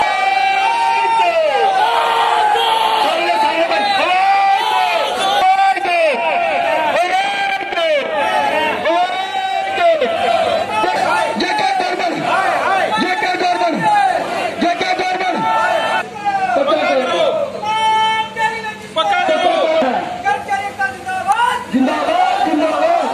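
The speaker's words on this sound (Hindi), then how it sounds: "डेलीवेजर्स द्वारा जम्मू के पीएचई ऑफिस के बाहर किया गया जोरदार प्रदर्शन" Daily wage workers protesting outside a PHE office in Jammu: a loud crowd chanting slogans in rhythmic call-and-response bursts, with shouting and cheering from many voices close by throughout.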